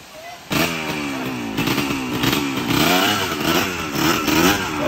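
A motorcycle engine revs and labors along a rainy, muddy dirt road to Tubog Falls, a loud, close, steady drone with rising and falling throttle swells.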